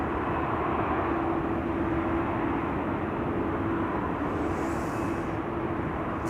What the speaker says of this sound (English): Thought I heard the props already.